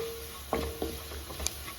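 Spoon stirring a sizzling banana flower cutlet mix in a pan as chili powder is worked in, a few soft scrapes over a faint steady frying hiss.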